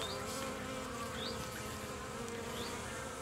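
Honey bees buzzing around a hive being prepared for winter, a steady droning hum with occasional individual bees passing close, heard alone.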